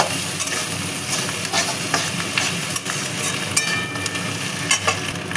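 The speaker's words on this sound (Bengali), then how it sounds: "এর মধ্যে এবার দিয়ে দেব ডিমটাকে। ডিমটাকে আমরা ছিঁড়ে ছিঁড়ে দিয়েছি" Torn pieces of fish roe are stirred into a sizzling mixture in a pan for a Bengali-style dish, with scraping stirring strokes over a steady close frying hiss and occasional louder clicks.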